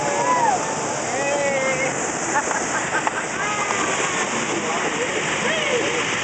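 Rushing water roars and splashes around a raft on the Kali River Rapids ride at Disney's Animal Kingdom, loud and steady, with people talking and calling out over it.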